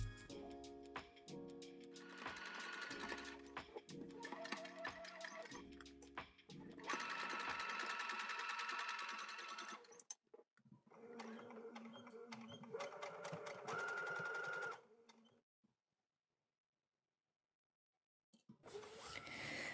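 A sewing machine with a 1/4 inch quilting foot stitches a curved Peter Pan collar, running in steady rapid bursts of needle clatter that stop and restart, with someone talking over parts of it and a brief silent gap near the end.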